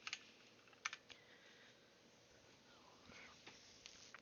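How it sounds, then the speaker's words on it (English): Password typed on a computer keyboard at a domain login, heard as a few quick, light key clicks near the start followed by scattered soft taps, faint over low room noise. "I type the password,"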